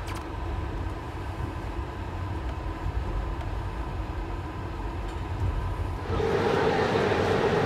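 A sleeper train is pushed out of a Bucharest station by rail, a low steady rumble and rolling clatter that swells noticeably louder toward the end.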